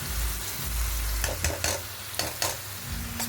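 Onion fries in a pan as turmeric, chili and cumin powders are stirred in, a steady close sizzle with several sharp scraping strokes of a spatula, no voices.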